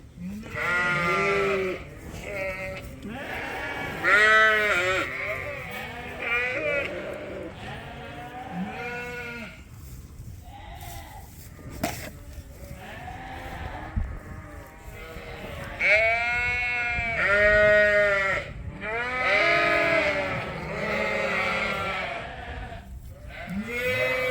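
Several sheep bleat loudly and repeatedly on a sheep farm at weaning and feeding time, overlapping calls close by, with a few quieter gaps between bursts.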